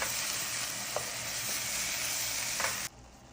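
Sauce with tomato and spices bubbles and sizzles steadily in a pan while being mixed, a couple of soft utensil knocks over the hiss before it cuts off abruptly near the end.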